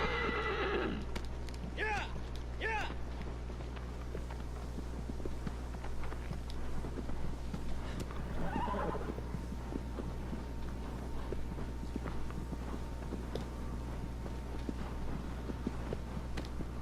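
A horse in the video game Shadow of the Colossus whinnies several times early on and again midway, with clip-clopping hooves on and off throughout over a steady low game hum.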